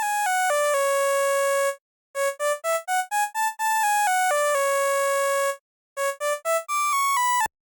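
Serum synth lead pitched up an octave for a dark hard-rock beat, a buzzy, bright tone running a choppy pattern of held notes and quick staccato bursts with short silences between phrases, played alone.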